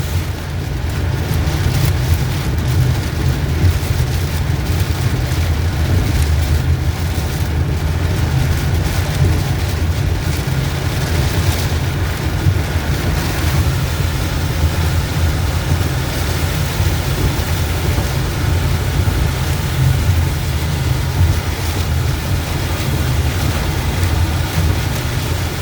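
A wind and rain storm on a causeway, heard as a loud, constant rushing roar with heavy low rumble from wind buffeting, no talking.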